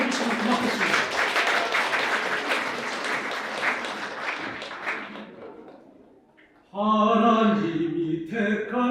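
A wedding audience gives warm applause, a full wash of clapping that fades out over about six seconds, followed by a singing voice starting up.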